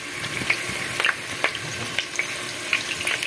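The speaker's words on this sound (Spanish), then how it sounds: "Ya lo estoy friendo, les muestro cómo va, se va friendo bien bonito." Chicken pieces with carrots fry in a pan, giving a steady close sizzle dotted with sharp crackles and pops, with no talking.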